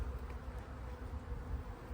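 Honeybees hum in a continuous low, dense buzz from an opened beehive at close range, steady and unbroken throughout.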